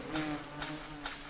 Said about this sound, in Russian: Блин, эти мухи еще.